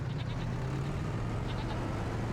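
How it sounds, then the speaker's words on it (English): Goats bleating on a farm in Farming Simulator 25, a few short high bleats sitting over a steady loud low rumble of engine or ambient noise. "They do have plenty of goats here."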